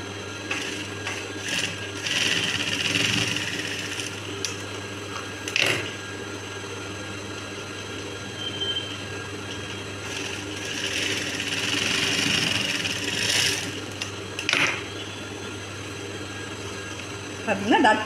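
Sewing machine stitching a blouse, running in uneven bursts of steady mechanical whirring at close range, with pauses between runs and a faint voice talking at times.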